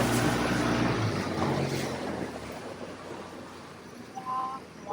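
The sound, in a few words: motorboat passing on water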